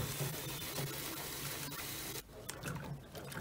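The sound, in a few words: washing out LAY-Z-SPA filters with water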